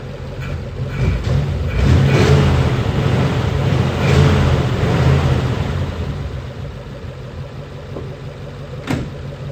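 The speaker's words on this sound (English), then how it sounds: "Back to running like the flathead should." A Mercury flathead car engine idles and revs after a repair, a loud steady rumble that swells and eases over nine seconds, with a brief sharp click near the end.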